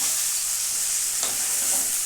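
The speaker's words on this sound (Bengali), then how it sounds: "এই চালটাকে একটু ভাজতে হবে।" Soaked rice stirred and fried in a pan for jeera paneer rice gives a steady, close, bright sizzle that stays even throughout, with a brief stirring scrape near the middle.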